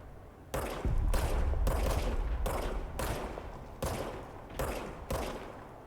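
A service weapon firing in the video game Control, several heavy bursts of gunfire in a regular rhythm with brief pauses between them, loud and close, with no talking.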